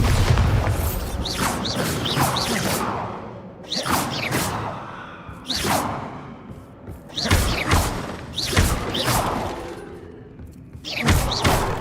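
Bombarda spell explosions in the video game Hogwarts Legacy: five loud booming blasts with whooshing, debris-like crackle, spaced every two to three seconds and heard alone without talk.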